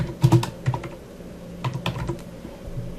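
Clicky computer keyboard typing in irregular bursts and short pauses, close and moderately quiet, with no talking.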